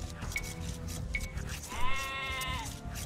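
Sheep bleat in the Age of Empires strategy game, two short high calls followed by one longer wavering bleat, heard clearly over a low, steady game background.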